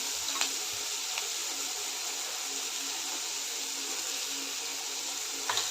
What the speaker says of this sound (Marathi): सर्व भाज्या चांगले परतून झालेल्या आहेत आता यामध्ये अर्धा चमचा हळद घालते